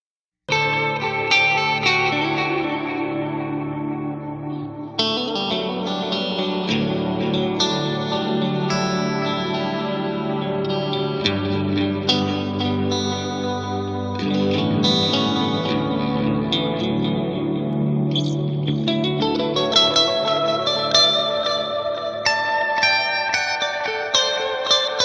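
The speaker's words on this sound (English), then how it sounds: "The delay adds a nice chorusy effect" Electric guitar recorded through a mono amplifier with a stereo delay adding a chorus-like shimmer, playing a continuous melodic passage with echoing repeats and reverb, steady and fairly loud throughout with no talking.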